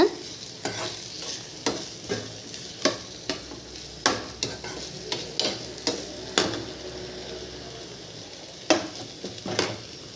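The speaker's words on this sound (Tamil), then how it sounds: "வெண்டைக்காவையும் போட்டு நல்லா கிண்டுங்க" Okra frying in a pan with oil, stirred with a spoon that knocks and scrapes against the pan in irregular strikes over a steady soft sizzle, close and alone.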